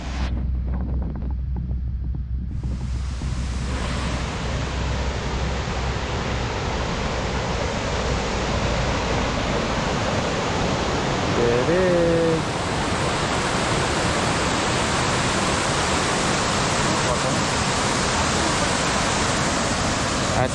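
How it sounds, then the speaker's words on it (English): A broad, steady rush of falling water at Cottonwood Falls in Nelson, British Columbia, fills the scene, loud and continuous, with a brief voice-like sound partway through. "Waterfalls."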